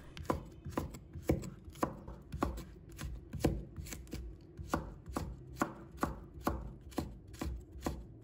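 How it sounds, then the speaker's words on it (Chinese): A knife chops red chili pepper into thin strips on a cutting board, a quick run of sharp, evenly spaced knocks, close and clear with no talk. "把它切成小段，再改刀切成细条"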